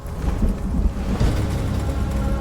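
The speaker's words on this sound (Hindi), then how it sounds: "बारिश की बूंदे" Steady rain pattering with a deep rumble of thunder rolling underneath, dense and continuous throughout.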